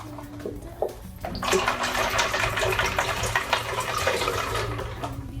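Coconut water pours steadily into a blender for a smoothie, a close, continuous gurgling splash after a few light clicks and knocks.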